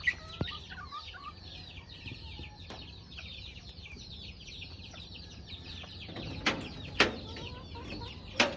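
Backyard chickens cluck and chatter continuously at moderate distance, with a few sharper louder squawks breaking through near the end over a soft outdoor background.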